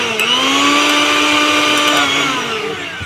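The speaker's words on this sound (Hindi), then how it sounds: "ये मिक्सी तैयार हो चुकी है। अब इसमें सप्लाई दे के" A mixer grinder runs steadily after its motor has been replaced, giving a loud, continuous electric motor whine that rises slightly in pitch, then holds for a few seconds alone with no talk.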